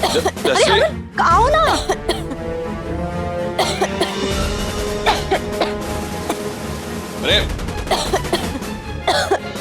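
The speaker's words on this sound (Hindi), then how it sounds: "इतने जोर से खांसने की आवाज आ रही है" A person coughs loudly and repeatedly inside a locked room, heard in bursts while several voices talk nearby.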